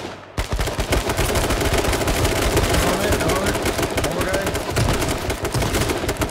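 Sustained, loud gunfire from the H1Z1 video game: rapid overlapping shots and bursts fill the whole stretch, dense and close, with a voice faintly mixed underneath.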